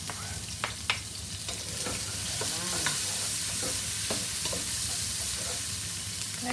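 Onion sautés in a hot casserole pot, a steady sizzle and frying crackle punctuated by scraping stirs and clinks of a utensil, close and continuous, with no talking.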